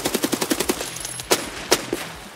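Automatic weapon fire in the shooter Escape From Tarkov, a rapid close burst of about eight loud shots followed by a few spaced single shots.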